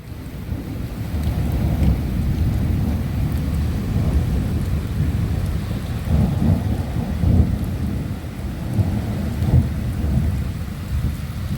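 Steady heavy rain pours through a thunderstorm while deep rumbling thunder rolls beneath it, swelling and fading in waves, loud and continuous with no voices.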